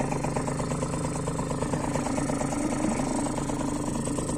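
A Parsun 3.6 outboard boat motor idles steadily after starting with forward gear engaged, giving a continuous even engine drone at close range with no talk over it.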